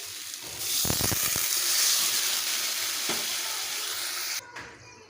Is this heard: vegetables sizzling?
yes